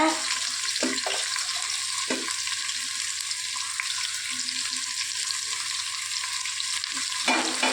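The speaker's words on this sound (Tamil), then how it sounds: "அரிஞ்சு வெங்காயத்தை சேர்த்திக்கலாங்க நான் ஒரு அஞ்சு வெங்காயம் அரிஞ்சு வச்சுருக்குறேங்க" Chopped onions fry in oil and are stirred in a pan while cooking country chicken biryani. A steady sizzle runs throughout with the occasional scrape of the spoon, and nobody speaks.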